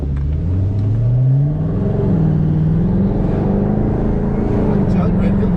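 A car accelerates in sport mode, its engine note rising and changing pitch as it shifts, steady and close inside the cabin, with people talking over it.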